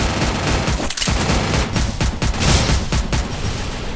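Rapid gunfire from the mobile battle game Free Fire, dense bursts of shots and booms rattling continuously with barely a pause, loud and close throughout.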